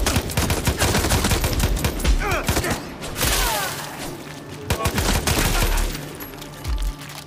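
Rapid bursts of gunfire from a Far Cry 6 firefight, loud and close, with fusillades and single shots overlapping under game chatter and voices.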